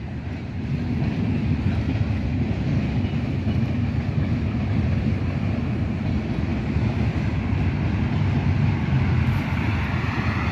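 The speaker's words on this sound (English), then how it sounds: "there's a train, there's a train" A train passing close by beside a fence, a loud, steady broadband rumble and roar that rises in the first second and holds at full strength throughout.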